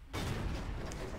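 An M48A1 tank cannon firing in a video game, one abrupt heavy boom that swells into a broad, rumbling roar and stays loud to the end of the short burst.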